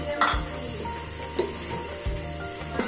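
Cabbage going into a hot pan with noodles and green papaya, stirred and frying with a steady low sizzle, broken by a few sharp scrapes and clanks of a utensil against the pan.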